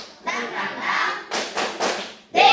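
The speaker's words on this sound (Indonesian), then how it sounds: "Tepuk semangat." Students in a classroom ice-breaking activity doing a rhythmic spirit clap, bursts of group clapping in short beats with children's voices chanting along, close and fairly loud.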